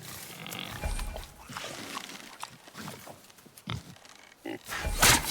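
Wild boar in the God of War video game grunts and snorts in low, rough bursts amid game ambience and rustling, ending in a louder noisy swell.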